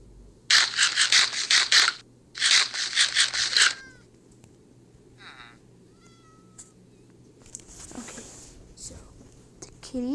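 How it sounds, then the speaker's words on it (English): A cat in a survival video game gives a few soft, drawn-out meows with rising and falling pitch, coming after two loud breathy bursts of game noise. "I'm not going to end this video until I tame this cat."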